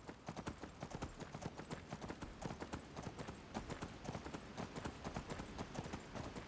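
Horse hooves gallop in Skyrim, a steady rapid clip-clop rhythm that runs close and loud from start to finish, with no other sound over it.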